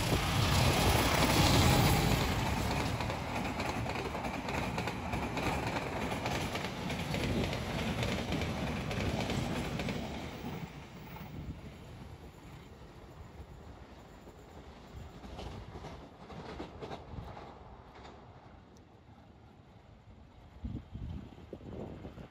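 A passing passenger train rumbles loudly through a station with broad roaring noise and rattling wheels, gradually easing as it moves on, with faint clanks near the end.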